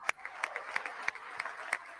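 Audience applause at a presidential State of the Union address, with distant, thin, scattered clapping that comes in soft, uneven bursts.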